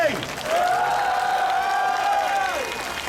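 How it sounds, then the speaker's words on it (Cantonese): An audience at a political rally applauds together, a dense wash of clapping mixed with cheering and shouted voices that swells and holds for a few seconds. "俾啲掌聲！"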